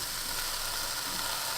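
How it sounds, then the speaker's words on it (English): Pork hits a hot pan with softened, browned onions for Filipino sinigang, a faint, steady hiss of sizzling throughout with no pauses. "so now we're gonna put our pork in"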